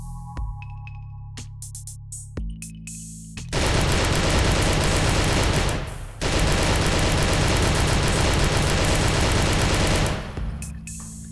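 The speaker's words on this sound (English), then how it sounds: "I made them a little bit more louder, I made more impactful" Loud, punchy gunfire from a first-person shooter game, with scattered single shots and clicks, then two long sustained bursts of rapid automatic fire separated by a brief pause, ending in quieter handling noises.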